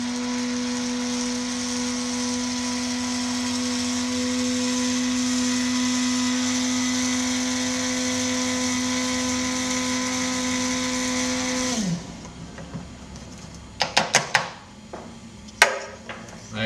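An electric blade grinder grinds coffee beans toward a fine filter grind, giving a loud, steady motor whine that runs for about twelve seconds before stopping abruptly, followed by a few light clicks and taps.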